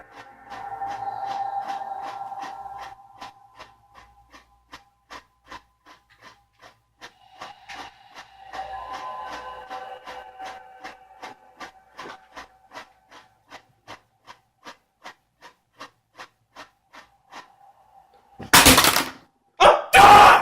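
PlayStation 2 console noise while loading a game: a steady whirring hum breaks into a long run of regular, rapid mechanical ticks and clicks, then ends in a few loud, harsh bursts.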